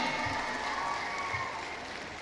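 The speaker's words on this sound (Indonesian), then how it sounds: "Tepuk tangan untuk Rizik Syihab." Audience applause at a civic lecture held at a provincial education office in West Java: steady, dense clapping from a crowd that holds for the full stretch and fades only slightly at the end, with no voices above it.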